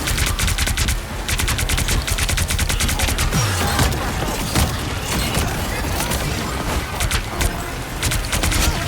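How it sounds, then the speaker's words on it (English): Rapid cannon gunfire from the Punisher in the Marvel Rivals video game, dense bursts of automatic shots pounding steadily throughout with loud booms layered over the busy game mix. "The Punisher cannon is fully operational."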